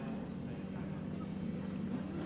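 Grasstrack racing sidecar outfits at a meeting idle and rev together in a steady, droning engine roar heard from a distance, with no clear talk.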